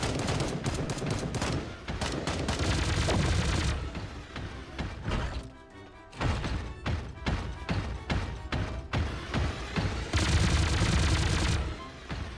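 A transformer robot's weapon firing in the video game Sausage Man: loud, rapid bursts of gunfire with scattered impacts, a short lull near the middle, then more sustained volleys.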